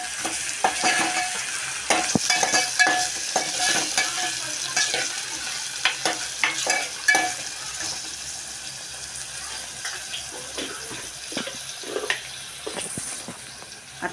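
Onion and half a tomato frying in a pan for mixed vegetable bhaji, steady sizzling broken by repeated scraping and stirring strokes of a spoon, with no talking.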